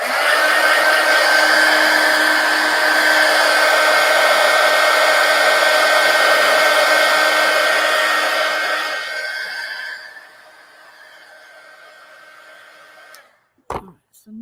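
Hair dryer blowing steadily and loudly to dry glued paper stars on a collage, a constant close whir that cuts off after about nine seconds, followed by quiet and a couple of small handling clicks.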